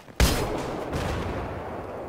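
A weapon in the Battlefield video game fires a single loud, close blast with a long rumbling decay trailing after it, no voices heard.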